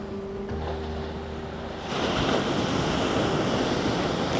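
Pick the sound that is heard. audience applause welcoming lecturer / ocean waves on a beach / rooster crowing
ocean waves on a beach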